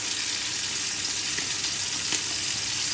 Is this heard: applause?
no